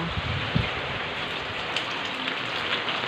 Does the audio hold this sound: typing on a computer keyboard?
no